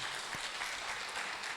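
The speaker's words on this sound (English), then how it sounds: "So please, I would like just to ask you to give him some claps." A conference audience at a regional knowledge-sharing meeting claps steadily for a moderator taking the stage, a dense, even patter of applause heard alone at a moderate distance.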